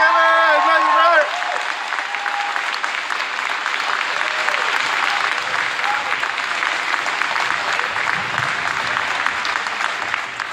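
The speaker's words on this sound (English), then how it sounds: "Let's give him a big round of applause." An indoor crowd at a coach's farewell breaks into sustained, dense applause lasting about ten seconds, with a voice calling out loudly over the opening moment.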